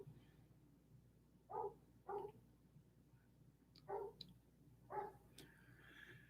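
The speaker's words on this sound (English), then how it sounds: "somebody's dog's barking outside" A dog barks outdoors, four short separate barks spaced a second or two apart, somewhat distant and moderately loud over a quiet indoor background.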